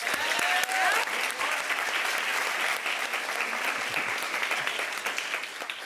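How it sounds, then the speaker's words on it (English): Graduating interns and the audience give a round of applause at an end-of-year event, dense clapping that starts loud and gradually thins and fades. "Please give yourself a round of applause."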